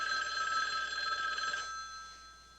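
A telephone bell rings steadily for about a second and a half, then stops, leaving a fading quiet room tone.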